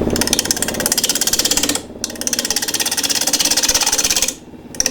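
Wood lathe spinning a square plate blank while a 3/8 bowl gouge cuts its edge, giving a loud, steady rattling chatter that pauses briefly twice before resuming.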